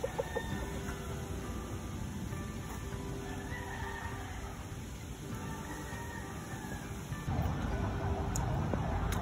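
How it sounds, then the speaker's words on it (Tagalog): Chickens and roosters cluck and crow around a rural coop, with calls scattered over a steady farmyard background. "Tara, punta tayo sa manukan."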